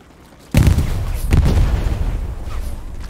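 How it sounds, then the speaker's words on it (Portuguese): Land mines blowing up in a World War II combat video game: a sudden loud blast followed by a rolling, sustained rumble of further explosions that slowly fades. "Espera que eu vou botar umas minas só pra fazer mais explosão."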